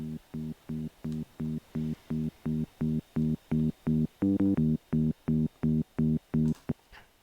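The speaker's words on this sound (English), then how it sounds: "the bass sounds like this" A happy hardcore synth bass plays a steady run of evenly spaced, punchy low notes in a repeating pulse, loud and upfront with no voices over it.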